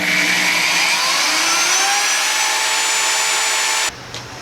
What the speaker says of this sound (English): So I'm using a corded drill